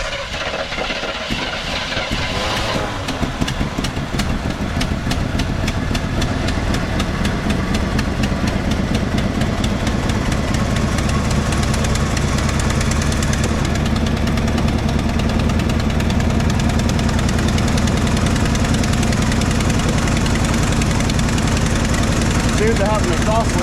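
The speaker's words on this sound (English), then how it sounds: "Seems to have an exhaust leak somewhere." A 1986 Chevrolet C-10 square-body pickup engine idling with an exhaust leak, a loud, close, continuous rumble with a rapid ticking, jackhammer-like chatter that holds steady throughout.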